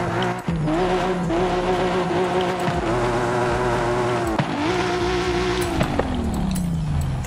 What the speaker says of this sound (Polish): Tak niezbyt ten silnik brzmi nawet,